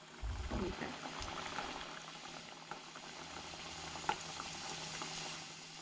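Shegaon kachori frying in hot oil, a steady bubbling sizzle that runs throughout with a few soft clinks and splashes near the start.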